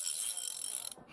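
Foley imitation of a Colt revolver cylinder turning: a quick run of small mechanical ratcheting clicks, fairly quiet and close, ending abruptly with a brief soft knock.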